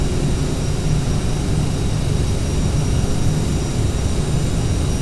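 CRJ regional jet engines spooling up during takeoff in a flight simulator: a steady, loud, broadband jet roar with a whining tone on top, holding constant for the whole stretch with no talk.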